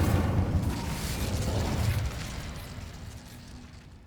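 Roaring burst of flame from the Incendio fire spell in Hogwarts Legacy, a loud whooshing blast that peaks immediately and then fades into a rumbling tail.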